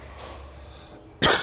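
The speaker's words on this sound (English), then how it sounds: "Why do I want to cough as soon as" A single short, loud cough bursts out abruptly after a stretch of quiet room tone.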